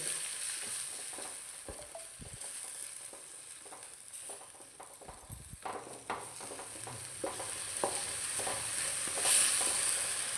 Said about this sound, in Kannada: ಶುಂಠಿ ಬೆಳ್ಳುಳ್ಳಿ ಪೇಸ್ಟನ್ನು ಹಾಕುವ ಇದು ಸ್ವಲ್ಪ ಫ್ರೈ ಅದರ ವಾಸನೆ ಹೋಗಲಿ